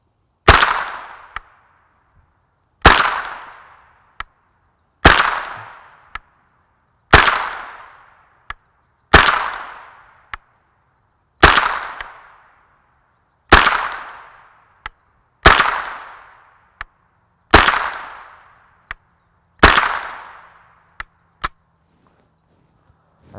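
An AR-9 carbine with a 16-inch barrel fires 9mm Federal Hydra-Shok Deep 135-grain hollow-point rounds into gel at 25 yards. Ten sharp, loud shots come at a slow, even pace, each with a short ringing decay, and nobody speaks.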